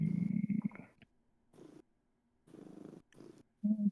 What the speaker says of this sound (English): Kitty. Those purrs.